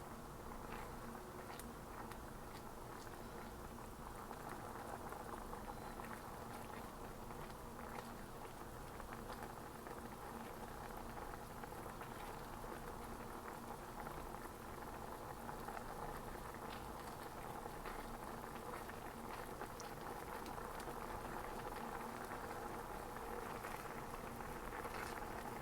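A pot of mac and cheese reaches a full rolling boil, a faint, steady bubbling and crackling that continues evenly throughout without talking.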